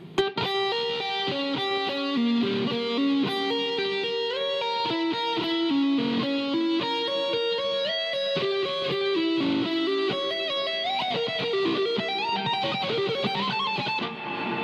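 An electric guitar plays a fast diminished-scale arpeggio run of single notes descending and climbing in quick succession, clean-toned and close, with no talking.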